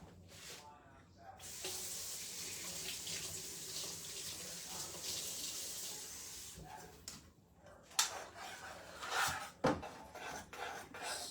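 Water pours from a tap into a pot of cooking grits, a steady rushing stream for several seconds before it tapers off into scattered clinks and splashes, fairly quiet and close.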